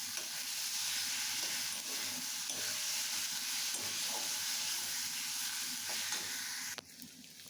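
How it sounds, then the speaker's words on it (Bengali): Potato pieces and spices being stirred and fried in a pan for an egg curry, a loud continuous sizzle with hissing steam and occasional scraping, no voices, ending in a brief clatter. "এবার আমি এই আলুগুলোর সাথে মশলাটাকে ভালো করে মিক্স করে নেব"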